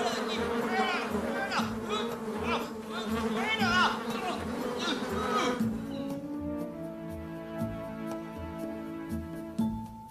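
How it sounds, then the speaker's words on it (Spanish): Swarm of flies buzzing in a Bible story of the plague of flies on Egypt: a dense, continuous insect hum that sits under a narrating voice and then carries on alone over quiet background music. "Las moscas volaban por todas partes."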